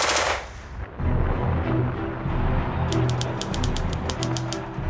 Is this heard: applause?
no